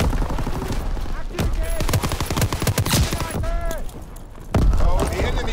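LMG turret gunfire in Call of Duty: WW2 multiplayer, loud dense bursts of rapid automatic fire and explosions mixed with game sounds, with voices talking over the action.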